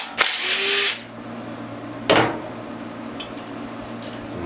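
A cordless power drill whirs in two short bursts while backing screws out of a Honda clone generator engine, the first run longer and the second brief, close and loud in a quiet workshop.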